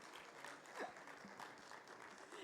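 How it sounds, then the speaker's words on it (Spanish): An audience at a high-level forum on freedom and security applauds steadily, with a dense patter of clapping that stays even throughout and faint voices mixed in. "un fuerte aplauso renovado"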